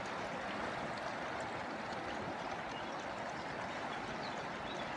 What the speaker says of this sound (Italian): Ed ora scelgo di ascoltare il cuore dell'acqua di questo splendido fiume